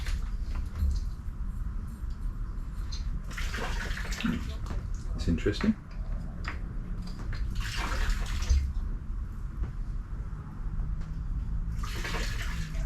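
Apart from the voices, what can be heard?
water draining from a dinghy after rain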